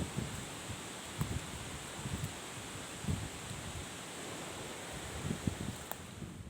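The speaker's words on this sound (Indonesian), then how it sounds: "Akibat diterjang angin kencang dan hujan deras, ranting dan beberapa pohon tumbang." Strong wind blowing through trees on the slopes of Mount Lawu in Magetan during a storm, a steady broadband roar with soft rustling and a few brief gusty bumps, fairly faint and with no voices.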